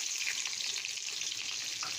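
Onions sizzle steadily in about three spoonfuls of hot oil in a kadai for a green bean and potato sabzi, a dense, close, continuous frying hiss with faint stirring and no voices.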